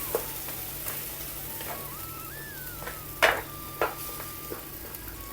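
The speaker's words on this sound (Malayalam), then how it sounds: "തേങ്ങയും ജീരകവും പിന്നെ വെളുത്തുള്ളിയും കൂടെ അരച്ചേ, അത് ഇതിനകത്തിട്ട് കൊടുത്തൊന്ന് ഇളക്കിയെടുക്കാം." Paste of ground coconut, cumin and garlic being stirred into a sizzling curry of raw banana and green gram, with steady frying hiss under a few scraping spoon strokes and light clinks, close and without talking.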